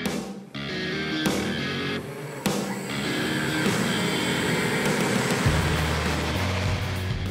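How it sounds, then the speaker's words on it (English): Beta personal flyer aircraft in flight, tethered low at about twelve feet, giving a loud, steady broadband roar with a whine, nearby and continuous, with short bursts and shifts in pitch near the start. "You're here testing this beta aircraft."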